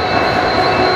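Continuous steady rumble and hum of a train at the Guwahati railway station platform, loud and close with no break.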